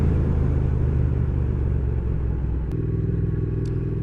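Steady, loud engine drone of a Triumph Thruxton R motorcycle while riding, a continuous low rumble with wind noise and a slight shift in tone partway through; no talking.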